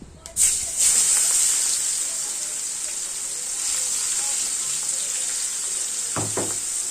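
Chopped onion with whole cumin and dried chili sizzling in hot oil, a loud, steady hiss from start to finish, with a few clinks of a utensil against the pan near the end.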